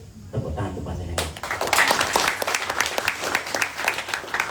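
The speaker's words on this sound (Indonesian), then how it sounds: "Tepuk tangan untuk panjenengan." Audience applause breaks out after a short stretch of talk, becoming a lively, uneven crowd of claps with sharp individual hand claps standing out near the listener, continuing to the end.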